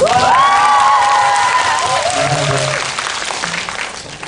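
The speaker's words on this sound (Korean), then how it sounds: "일단 박수 한번 주세요." Applause and cheering from a cinema audience at a movie talk event, with excited high-pitched shouts rising over the clapping at first, then the sound thins and tapers off.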